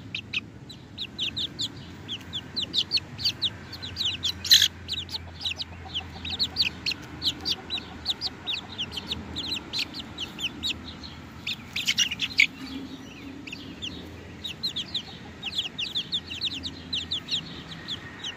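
White Crested Polish hens cluck and chirp continuously in a yard, a dense, close flock chorus of short repeated calls with a few louder squawks, and no talking.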